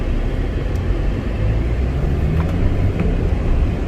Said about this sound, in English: It doesn't at all feel like driving such a big SUV.